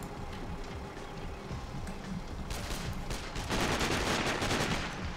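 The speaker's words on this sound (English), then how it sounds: "Come on, I shot him like 6 times." Pistol fire in Sniper: Ghost Warrior, a rapid string of crisp gunshots with mechanical clatter that grows denser and louder toward the end, with no speech over it.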